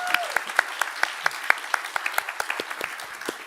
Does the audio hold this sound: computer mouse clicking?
no